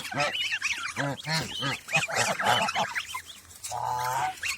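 Domestic geese honk loudly and repeatedly in a farmyard where goslings are kept, with harsh calls coming in rapid bursts, and a steadier honk closes the stretch.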